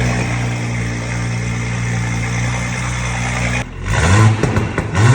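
A stage 2 tuned Audi B9 SQ5 engine idles with a deep, steady rumble close by, then is blipped into a few loud, rising revs that rasp and fall back near the end.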